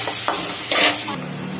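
Dried red chillies and onions frying and being stirred in a pot of oil for tempering a South Indian kuzhambu, a close, steady sizzle with a brief scraping stir partway through.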